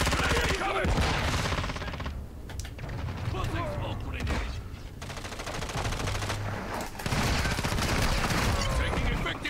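Sustained automatic gunfire from Call of Duty: Modern Warfare 2, dense and loud with rapid bursts and mechanical clatter running almost continuously, dipping briefly midway before resuming at full intensity.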